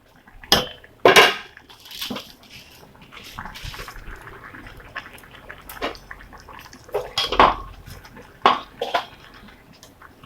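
Rice being stirred into a cooking pot of soya peas rice, with sharp metal spoon clanks against the pot, scraping and wet shuffling in irregular bursts, close and fairly loud.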